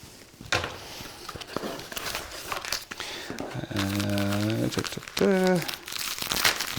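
Plastic packaging crinkles and rustles in bursts while a DWARF3 telescope is unboxed, with a voice talking over parts of it.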